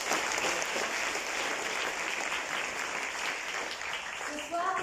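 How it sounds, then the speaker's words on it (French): Audience at a festival closing ceremony in Mauritius applauding, a steady, fairly distant wash of many hands clapping that fades slightly near the end. "Applaudissements pour eux."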